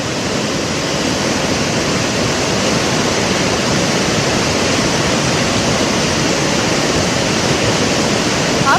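Floodwater after a cloudburst rushes through a main market street in Sahastradhara, Dehradun, a loud, continuous, dense roar with no breaks.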